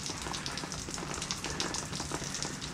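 Light rain falling during a dry, hot spell, a faint, even patter of fine drops on surfaces that hisses softly and continuously with no talk.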